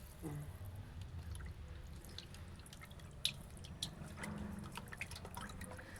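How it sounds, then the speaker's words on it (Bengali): Water splashes and drips faintly and steadily while koi and magur fish are washed by hand at home, with light clinks over a low background. "মা এখন মাছগুলোকে ধুয়ে নিবে ধুই করবে এখানে মাগুরও আছে কইও আছে"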